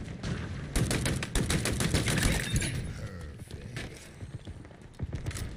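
Ravager gun fired in a multiplayer shooter video game, a burst of rapid gunshots with a dense, sustained volley through the middle, tapering to a few scattered shots and faint movement toward the end.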